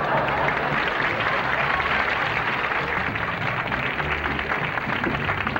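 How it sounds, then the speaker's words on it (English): Applause from a television comedy show audience sounds as a dense, steady wash of clapping that stays loud and even throughout, with no clear individual claps standing out. "But I'll clap like this."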